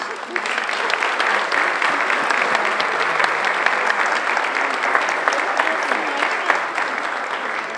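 Sustained applause from a large audience at a dance ball, loud and steady throughout, with dense clapping and no pauses.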